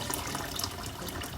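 Hot water is poured into a cooking pot to make broth for homemade chicken sotanghon, giving a soft, steady splashing trickle at low volume for a moment.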